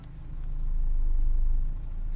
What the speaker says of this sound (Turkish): tam sağa kırıyorum direksiyonu. Geriye alıyorum.